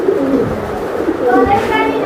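A male racer pigeon calls with a short, close, rolling coo that rises toward the end, with a voice murmuring faintly beside it.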